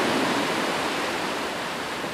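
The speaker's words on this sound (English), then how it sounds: "away from the sound of the waves" Ocean waves on a beach give a broad, steady hiss of surf, loud and continuous, with no breaks or voices.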